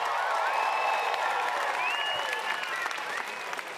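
A large arena crowd at Margaret Court Arena for the 2019 Fortnite Summer Smash pro-am charity event claps and cheers in sustained, dense applause with whistles, easing slightly toward the end.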